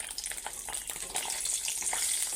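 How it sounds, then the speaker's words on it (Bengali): Eggs frying in hot oil, a short burst of bright sizzling and spattering, close and fairly soft, rising slightly in the second half with no voices. "আমি এবার এখান ভাজুম।"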